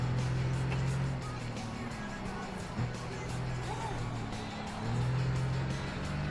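A steady car engine drone in the racing video game Gran Turismo 6 hums throughout, rising and falling in pitch as gears shift, with a brief thump midway; the sound is synthetic-sounding and continuous.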